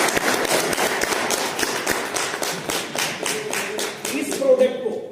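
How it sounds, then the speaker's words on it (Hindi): A seminar audience claps loudly, with dense, rapid hand claps running steadily throughout and fading near the end. "अगर बहुत अच्छा तो जोरदार ताली"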